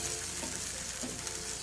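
Chili paste fries in a pan over low heat for Schezwan sauce, a close, continuous sizzle with light stirring scrapes and no talk.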